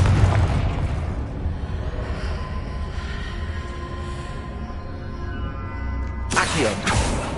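Spell effects from the video game Hogwarts Legacy, including a Confringo explosion: a steady rumbling, booming blast texture throughout, ending in a sharp bright burst near the close.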